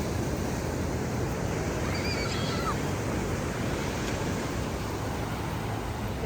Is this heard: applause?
no